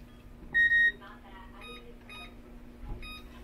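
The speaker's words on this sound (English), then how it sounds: "I'm going to actually set a timer for that" A kitchen timer gives a couple of short, loud electronic beeps close by while a home cook makes dinner, followed by quieter chirps under low background hum.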